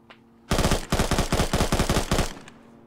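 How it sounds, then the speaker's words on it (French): Full-auto rifle fire in the shooter game KOTH, one sustained close burst of about fifteen rapid, evenly spaced loud shots lasting nearly two seconds, then a fading tail. "150 cartouches de Zaphir tirées en full auto"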